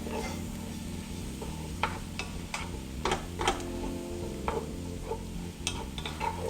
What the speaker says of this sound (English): We're gonna stir it and cook it 3 to 4 minutes.